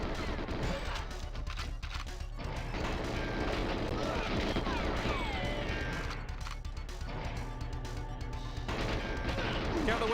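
Explosions and gunfire from the GoldenEye 007 campaign on Xbox, a dense continuous barrage of crashes and shots with game music and voices running under it for the full length.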